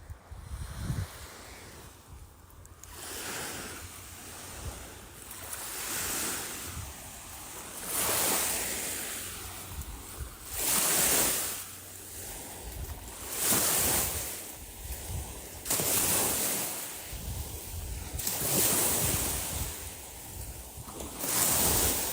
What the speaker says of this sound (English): The waves are nice.